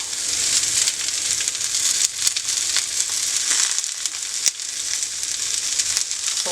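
Zucchini and other vegetables sizzle and fry steadily in a hot skillet, a constant crackling hiss with occasional louder pops and stirring noises, no talking.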